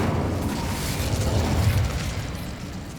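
Incendio fire spell cast in the video game Hogwarts Legacy, a dense roaring whoosh of flame with a low rumbling burst that swells slightly mid-way and stays loud across the whole stretch, no voices.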